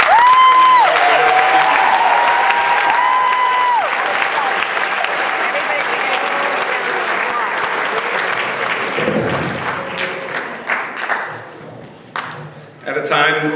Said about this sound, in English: I think it's appropriate for everybody in this room to receive a huge round of applause for the fantastic.